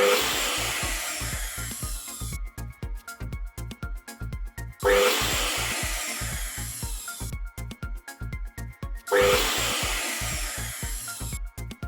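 A mixer grinder with coconut pieces in its dry jar gives three loud, close pulses. Each motor burst whirs up hard and then winds down in a grinding rattle before the next.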